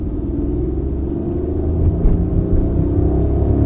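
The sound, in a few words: Hyundai Venue iMT engine accelerating hard in 2nd gear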